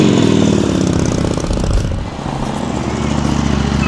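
A 2009 Harley-Davidson Sportster Custom motorcycle engine runs close by, with a loud, steady, rumbling idle that throbs evenly throughout.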